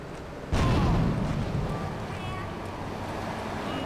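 A grenade explosion in Grand Theft Auto 3 lands as a single loud, broadband blast that rumbles and fades into a steady roar of game noise.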